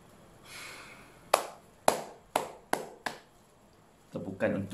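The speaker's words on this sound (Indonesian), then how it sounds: "Tepukan untuk frontliner." Five sharp, separate claps for frontline workers, close and loud and evenly spaced, followed by softer noisy movement at the end.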